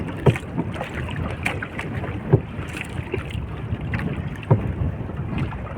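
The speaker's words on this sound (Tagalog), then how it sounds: "Lakas ang hangin." Strong, steady rushing wind buffets the microphone outdoors near water while fishing, with occasional soft thumps and knocks from a small boat.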